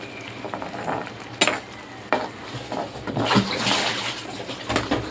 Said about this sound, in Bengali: আমি ভেন্ডিগুলো দিয়ে দিচ্ছি। এখানে মাছের ডিম হয়েছে, সেটাও দিয়ে দিয়েছি।